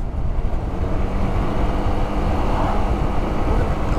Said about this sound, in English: Full on the throttle now.